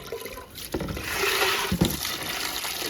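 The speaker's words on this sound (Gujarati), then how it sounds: "આ રીતના અમારે નળ આવે છે" Tap water runs into a bucket at a household outdoor faucet, a steady close gushing splash lasting the whole moment, with a couple of brief knocks from the bucket.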